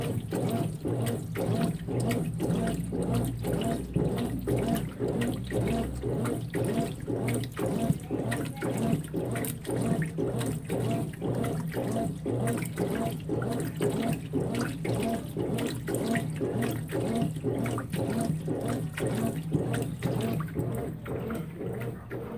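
A Consul 16 kg washing machine filling with water on its high level setting, giving a steady rushing hiss of inflowing water that stays constant and fairly close throughout, with a low hum.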